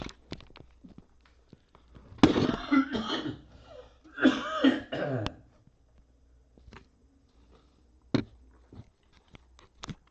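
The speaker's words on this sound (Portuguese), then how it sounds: "Me perdoem pela essa tosse." A man's coughing fit, several harsh close coughs in two bursts, followed by scattered quiet knocks and small noises in a quiet room.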